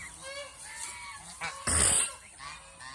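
Geese on a goose farm give a single loud honk near the middle of the clip, rising above a busy farmyard background with other faint bird calls.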